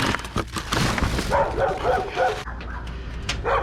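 Dogs bark loudly in a rapid run of close, repeated barks, then the noise eases off into a quieter stretch.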